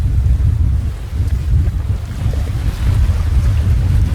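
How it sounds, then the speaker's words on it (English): Steady wind roars across an open sailboat under full reef near Night Island, a broad low rumble mixed with hull and water wash, constant and loud throughout with no voices. "the wind picked up a bit, so I've put another reef in now"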